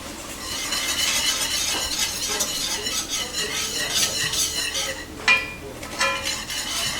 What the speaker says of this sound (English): I'm just gonna whisk it in.